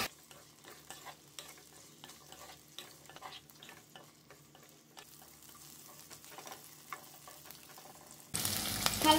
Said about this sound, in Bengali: তেল গরম করে নিয়েছি। এবার দিয়ে দিচ্ছি কেটে রাখা পেঁয়াজ আর ক্যাপসিকাম। লো ফ্লেমে হালকা ফ্রাই করে নিচ্ছি।